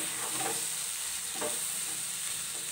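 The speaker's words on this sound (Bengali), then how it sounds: "এবার আমি সেদ্ধ ডালটা বুটে ওইটা আমি কড়াইয়ে দিয়ে ভাজবো।" Boiled lentils frying in a wok, with steady sizzling and a few soft scraping stirs, close and continuous with no talk.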